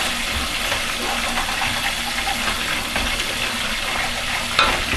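A thick paste fries fast in a pan over high heat, a loud, continuous sizzling hiss with a small stir-like knock near the end and no talking.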